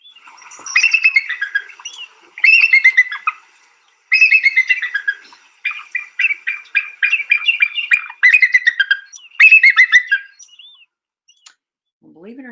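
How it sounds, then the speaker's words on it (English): A bald eagle gives loud, close, high-pitched piping and chattering calls in quick bursts, pausing between series, with no other sound behind them. "Believe it or not, that's the sound of a bald eagle."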